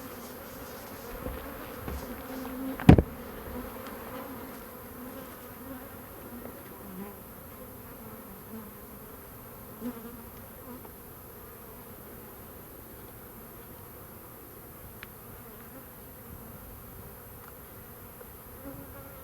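Bees on a farm hum around hive frames being lifted and inspected, a soft continuous drone with faint individual buzzes drifting past and a single sharp knock near the start.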